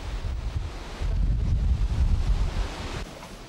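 Rough sea surf pounds the coast at Sozopol, a Bulgarian resort near the port of Burgas, a loud continuous roar of breaking waves mixed with gusting wind.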